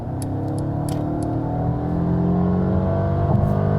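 A Mercedes SUV's 4-cylinder engine, in sports mode with all-wheel drive, accelerates from 65 to 100 with a steady, rising drone heard from inside the cabin, moderately loud, without speech.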